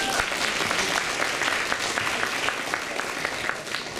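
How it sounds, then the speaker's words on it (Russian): An audience at a school Teachers' Day celebration applauds a mother who taught children a poem: a dense, continuous wash of clapping from many hands, steady and fairly close throughout. "поэтому аплодисменты Анастасии."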